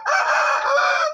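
A Shamo Asil rooster lets out a single loud, close crow lasting about a second, a harsh rising-and-falling call delivered alone without any talk over it.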